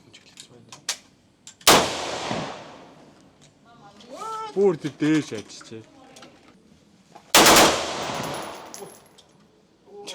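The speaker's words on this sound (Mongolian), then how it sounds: "Яг овгор шороон дээр буудлаа." An M16 rifle fires at the shooting range at the Cu Chi Tunnels in Vietnam. Two loud, close single shots ring out several seconds apart, with people talking between them.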